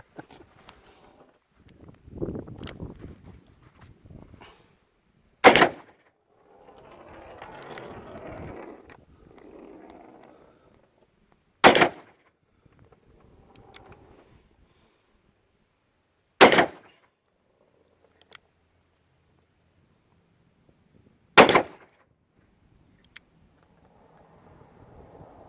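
A Smith & Wesson Model 58 revolver fires cowboy rounds: four sharp, loud single shots spaced roughly five seconds apart, with low conversation and movement in the gaps between them.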